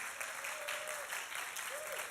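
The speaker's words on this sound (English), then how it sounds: "Everybody give a hand clap to Kathy." An audience claps for Kathy as she is brought on stage at a Christmas-themed event, a steady broadband patter of hands that runs throughout, with a faint voice or two rising briefly above it.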